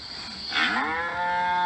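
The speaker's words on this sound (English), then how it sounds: "Let's see if we can hear some cows." Cattle sheltering in a snowy pasture with lean-to shelters give one long, low moo that swells and holds, clear and fairly close against a quiet outdoor background.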